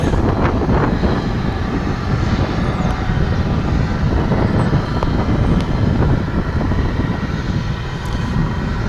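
A UPS Boeing 767 jet coming in to land at Dallas/Fort Worth International Airport, after a flight from Austin, Texas, gives a loud, steady broadband engine roar with wind buffeting throughout and no voices.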